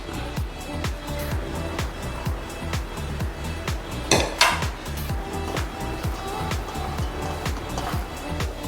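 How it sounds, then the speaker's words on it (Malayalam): Grated raw tapioca and coconut being stirred in a pot, with a steady rhythm of scraping, knocking strokes close by and one sharper clatter midway, with no voices. "തേങ്ങ കൂടി ഇട്ടങ്ങ് ഇളക്കാം."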